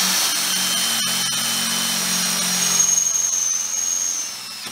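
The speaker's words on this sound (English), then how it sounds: "I'm drilling these out 5/16." A power drill whines steadily at close range as it bores 5/16-inch holes into metal on a Pulsar PG6580E generator during a propane and natural gas conversion, the high pitch holding, then winding down at the end.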